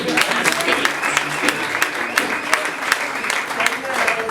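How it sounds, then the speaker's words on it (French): A comedy festival crowd keeps clapping in a steady, fairly loud burst of applause, with some talk from the audience underneath. "Il a rendu, on applaudit encore."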